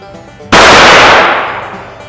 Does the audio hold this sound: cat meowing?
no